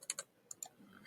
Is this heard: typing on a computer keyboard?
yes